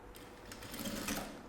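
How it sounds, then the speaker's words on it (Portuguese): A sewing machine runs a safety seam on a small fabric bunny vanity bag, giving a steady, fast mechanical whir with rapid needle ticking, close up and uninterrupted. "Vou passar uma costura de segurança"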